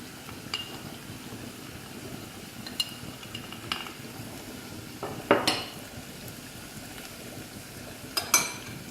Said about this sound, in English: We'll give it a stir and roast the spices for a little bit